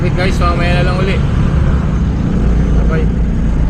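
Steady road traffic fills the scene with a dense, continuous low rumble of engines, while a voice talks briefly near the start.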